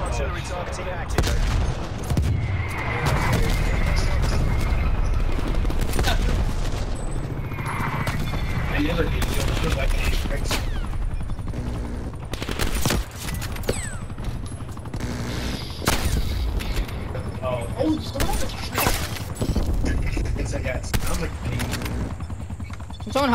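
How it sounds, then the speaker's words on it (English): Artillery fire and gunfire in Call of Duty: Black Ops Cold War on a sand dunes map, loud repeated booms and sharp shots in uneven bursts, with people talking over the din. "Hostile artillery targeting active."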